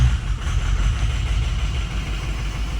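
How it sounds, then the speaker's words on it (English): A Ford 6.0 Powerstroke diesel engine cranks with a steady, low, droning churn, loud and close, with no voices over it. "This thing sounds so like weird when it's cranking."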